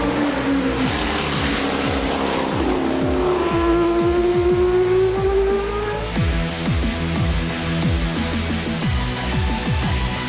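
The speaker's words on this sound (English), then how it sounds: "everything from vintage to modern race cars and supercars" Race cars at the World Time Attack Challenge 2022 roar close by with high-revving engines, rising and falling through gear changes and a tire squeal, continuous and loud with no talk.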